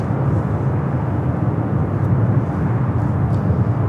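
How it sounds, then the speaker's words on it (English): A Delta Boeing 767 airliner crosses runway 24 left at LAX, giving a steady broad roar of jet engines that holds at an even level throughout, with no voices. "The Delta 767 now crossing over 24 left."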